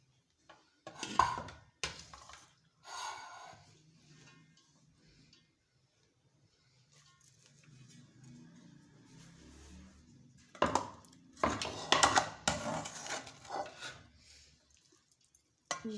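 Rice and vegetables tipped into a cooking pot while making Chinese rice, giving a few sharp clatters and scrapes near the start, then quiet rustling, then a dense burst of clinking and scraping toward the end.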